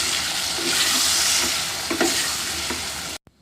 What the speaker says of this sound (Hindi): डालने के बाद इसको अच्छे से हम मिक्स करेंगे और तकरीबन 5 मिनट के लिए हम इसे पकाएंगे